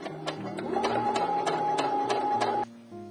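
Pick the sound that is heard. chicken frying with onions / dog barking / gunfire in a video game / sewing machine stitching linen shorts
sewing machine stitching linen shorts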